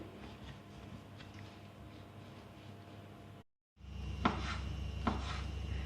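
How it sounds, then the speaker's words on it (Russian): A knife slices sausage into thin strips on a cutting board, producing soft, faint repeated cuts and taps, quiet and close, with a brief break before a few sharper knocks. "Колбасу я нарезаю соломкой."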